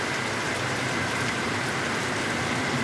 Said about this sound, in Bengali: বৃষ্টি তো মনে হয় থামার কোনো লক্ষণই দেখি না।